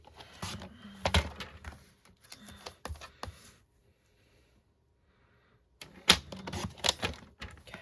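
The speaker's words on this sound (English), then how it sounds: "while we also have the trimmer out, I want to cut a 1/2 inch off this card on each end" A paper trimmer slices a greetings card: clusters of sharp clicks and sliding thunks, then a quiet gap, then another close burst of clacking strokes.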